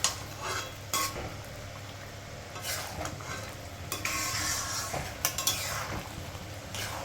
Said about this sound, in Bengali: এবার সমস্ত উপকরণ একবার খুব ভালোভাবে মিশিয়ে নেব।